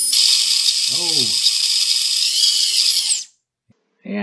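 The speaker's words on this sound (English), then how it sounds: "Yeah, those are some bad bearings." A drone's brushless motor with bad bearings spins at high speed, giving a loud, rough, rattling whine that cuts off abruptly and then restarts. A man briefly exclaims over it.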